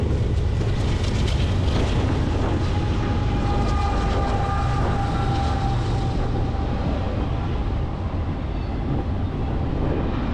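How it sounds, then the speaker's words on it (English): Trains rolling past the Flagstaff Amtrak station in Arizona, a steady loud rumble of rail cars with faint wheel clatter and a thin sustained squeal, continuous throughout with no talking. "Trains going by"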